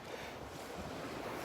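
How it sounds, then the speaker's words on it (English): Ocean surf washes up on a Gulf beach at Delnor-Wiggins, a steady broadband roar mixed with microphone wind noise, faint and continuous for a short moment with no voices. "Right now the waves are coming up here and pushing everything around."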